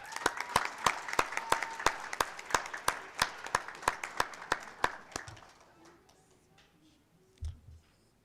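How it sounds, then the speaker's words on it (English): An audience at a school board meeting claps in an even, rhythmic beat for first-grade singers, with close, crisp claps that fade out after about five seconds into near quiet and a brief low thump. "One more round of applause for them, everybody."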